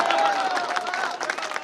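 Crowd applause at a Hindi kavi sammelan poetry recital, brief continuous clapping with voices and cheers mixed in.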